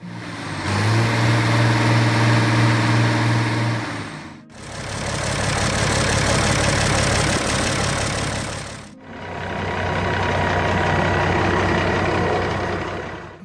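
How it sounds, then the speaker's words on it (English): A Massey Ferguson 1105 tractor from the early 1970s, fitted with a Perkins 354 cubic inch turbocharged diesel, runs steadily and loudly across three continuous sections split by short breaks, with a deep, even engine note and no talk. "the 1105 came equipped with a Perkins 354 cubic inch turbocharged diesel engine"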